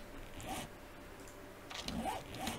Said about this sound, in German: da muss ich mal immer ein Paket auspacken